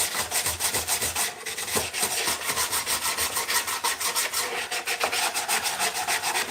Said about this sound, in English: The old sandpaper on some of these edges so they're not sharp.